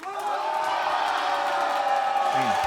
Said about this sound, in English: Can we get a cheer?